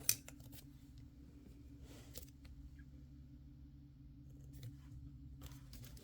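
Cardboard storage box being cut open with a blade, with a few short scraping cuts spaced apart over a steady low room hum, faint and close.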